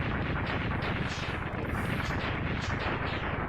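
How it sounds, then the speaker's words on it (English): Giant explosions boom in a Mega Man X8 demake styled after NES games, a dense, continuous roar of overlapping blasts filling the whole stretch at high volume with no pauses. "Man, this NES wishes it could have had giant explosions like that."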